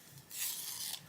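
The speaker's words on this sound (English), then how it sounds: "I'm just going to sharpen it" A dark red colored pencil is turned in a small sharpener, making a soft, faint scraping rasp that runs steadily for about a second.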